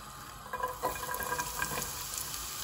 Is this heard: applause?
no